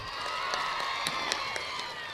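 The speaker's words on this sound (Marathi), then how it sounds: "जरा जोरात टाळ्या होऊ द्या" An audience at a tamasha folk comedy show claps steadily and densely, with crowd cheering mixed in, the applause holding at an even level throughout.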